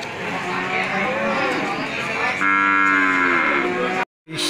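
Cattle at a Bali and Limousin cattle sale moo loudly and close by, with long overlapping lowing calls that swell in the middle of the clip and then cut off abruptly near the end.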